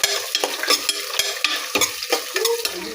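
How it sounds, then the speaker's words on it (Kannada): Onions fry in hot oil in a pan for a hotel-style vegetable pulao, with a steady close sizzle broken by repeated scraping stirs of a utensil, without any talk. "ಈರುಳ್ಳಿ ಚೆನ್ನಾಗಿ ಫ್ರೈ ಆಗಬೇಕು"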